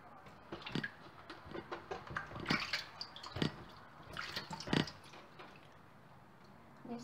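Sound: washing vegetables in water

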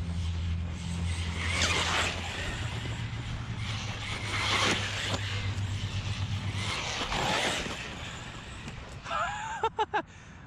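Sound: Arrma Big Rock 4S RC truck running

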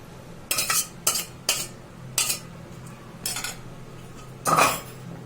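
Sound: pouring boiled meat into a pot of eggplant and tomatoes

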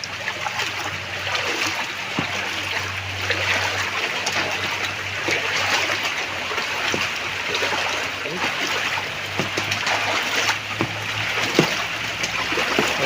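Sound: flowing floodwater after heavy rain

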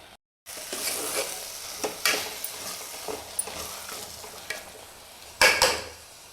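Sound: sprouted horse gram being fried and stirred in a pan

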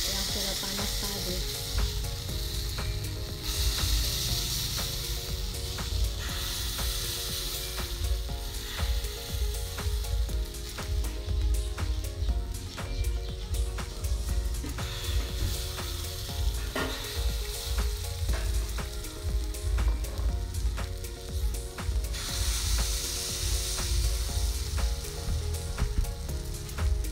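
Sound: kue angka batter sizzling in a hot cake mold

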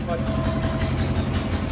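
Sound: power generator running during a power cut

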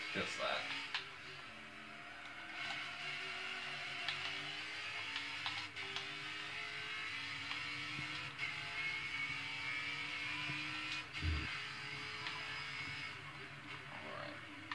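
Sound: V8 supercar engines racing, from video game Forza 7

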